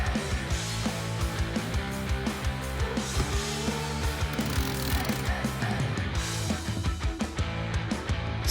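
A JACO retractable ratchet strap being worked, giving dense mechanical clicking and ratcheting with rapid irregular clacks and metallic rattles, close and continuous over a sustained mechanical clatter.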